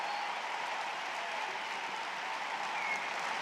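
Steady applause from a large tennis crowd at a US Open semifinal, Agassi against Ginepri, a dense wash of clapping at moderate distance that holds evenly throughout with no voices on top.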